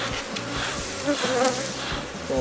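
Bees buzz densely and continuously at a strong, busy beehive being worked with smoke, a close, steady swarm drone with no voices.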